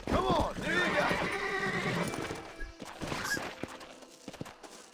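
A horse in the Western video game Red Dead Redemption gives a loud, close whinny at the start, followed by snorts and hoof clops, with a voice speaking over it.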